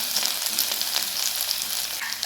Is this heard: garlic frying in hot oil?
yes